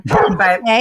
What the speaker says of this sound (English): Sorry about the dog barking again